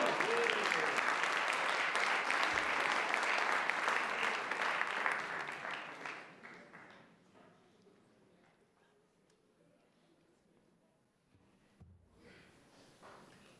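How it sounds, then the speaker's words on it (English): A live folk-music audience in Fort Wayne gives loud, dense applause that holds for about five seconds, then fades into scattered claps and quiet room noise, with a brief stir near the end. "Give yourself some applause"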